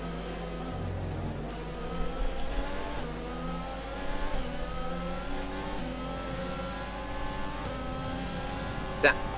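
Race car engines from F1 2020 at the Chinese Grand Prix, a steady high engine drone on a long straight, with a voice talking over it and a brief sharp accent near the end.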